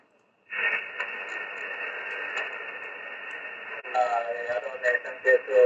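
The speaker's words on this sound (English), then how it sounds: "you can see that the band noise keeps changing" Shifting band noise on an SDR radio receiver, a steady hiss with faint tonal lines that starts abruptly, holds level, then grows busier and louder with wavering tones near the end.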